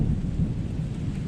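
A deep, sustained rumble of thunder rolls through a heavy rainstorm outdoors, loud and close, with steady rain hiss underneath and no voices.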